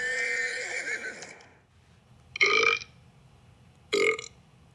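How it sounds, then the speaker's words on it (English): A drawn-out belch, then two short, loud burps spaced apart, close and clear with no talking. "There's over 100 belches and farts alone."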